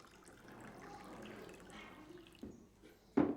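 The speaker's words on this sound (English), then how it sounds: "then filled with clear water from the pump." Water from a hand pump pours into a container at a cyclone shelter in Cox's Bazar, a faint splashing flow with a couple of sharper knocks near the end.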